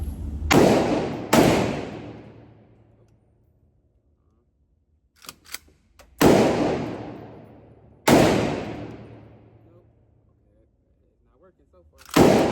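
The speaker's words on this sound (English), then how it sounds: "This is the first shot." Glock 30S pistol fired at a shooting range, a few loud, sharp, close shots spaced seconds apart, each with a decaying echo, and small clicks and handling noises in the quiet gap.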